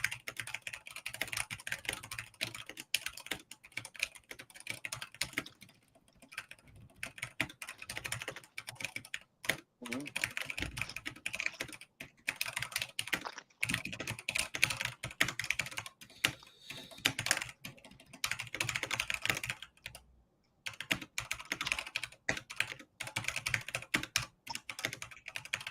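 Fast, continuous clacking on a noisy computer keyboard, loud and close, with brief pauses between bursts and occasional faint talk.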